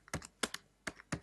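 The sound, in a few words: typing on a computer keyboard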